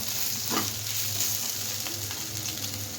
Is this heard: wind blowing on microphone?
no